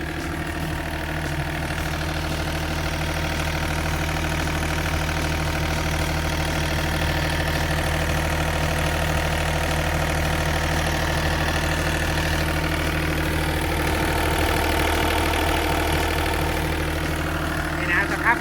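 A Komatsu SK07-3 wheel loader's three-cylinder 3D84N diesel engine idles close by, a steady low rumble with a constant hum that runs unbroken throughout.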